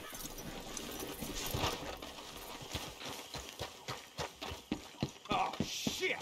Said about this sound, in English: Let's leave the horses here and take a look.